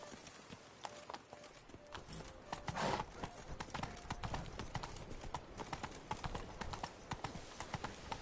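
Roach, the horse in The Witcher 3: Blood and Wine, trots with rapid, rhythmic hoof clip-clops that grow louder partway through and continue steadily to the end.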